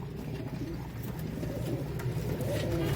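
Pigeons of a Pakistani loft, some perched low, coo steadily in a dense, overlapping chorus of soft, rolling calls that runs without a break, close and moderately loud.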